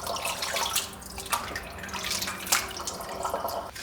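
Raw pork being washed in water and drained, with sloshing, dripping and running water in a sink, close and moderately loud, with irregular splashes and no talking.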